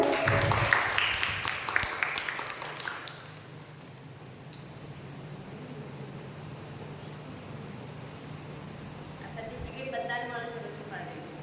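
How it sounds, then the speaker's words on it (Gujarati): A crowd at a children's camp ceremony breaks into applause, a burst of clapping that is loud at first and fades out after a few seconds, followed by quieter room noise and a voice speaking. "બધા તાળી પાડો."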